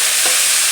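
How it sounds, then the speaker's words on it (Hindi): Petha (ash gourd) frying on full flame, a loud, close, steady hiss of sizzling with one faint stir scrape partway through. "फुल आँच पे हम भूनेंगे पेठे को 1 से 2 मिनट"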